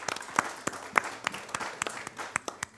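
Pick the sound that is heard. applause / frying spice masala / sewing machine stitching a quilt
applause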